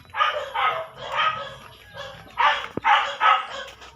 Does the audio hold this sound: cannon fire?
no